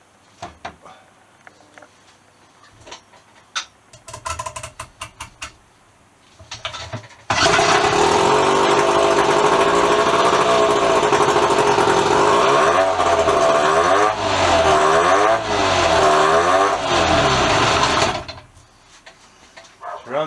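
Vintage Evinrude 4hp outboard engine, previously seized, first clatters and sputters through a few attempts, then catches and runs loudly for about ten seconds with a buzzy, wavering idle before cutting off abruptly.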